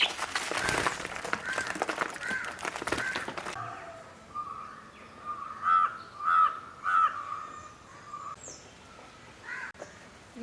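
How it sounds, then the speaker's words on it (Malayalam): Loud crow caws ring out near a house beside a garden of potted and shade plants, a run of about four harsh calls after a stretch of rustling, with fainter bird calls in the background. "നമ്മൾ നമ്മുടെ വീട്ടിൽ വീഡിയോ എടുക്കുമ്പോഴൊക്കെ കിളികളുടെ ശബ്ദം കേൾക്കാറുള്ളത് ഇവരുടെയാണ് കേട്ടോ"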